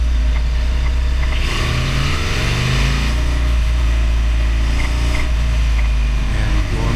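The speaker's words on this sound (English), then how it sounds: "now I'm speeding up going off the highway" A vehicle accelerates as it leaves the highway, with engine and road roar rising in pitch, steady and loud close up, with no talk over it.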